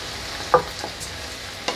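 Coconut water and butternut squash cook in a saucepan over fairly high heat, a soft steady sizzle broken by a sharp clack of a spoon stirring against the pan and a second clink near the end, with no talk.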